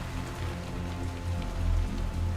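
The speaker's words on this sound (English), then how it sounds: "And that rain is coming down." Steady rain patters on surfaces in a WWI war hospital management strategy game, a constant dense hiss of drops at moderate volume with nothing else over it.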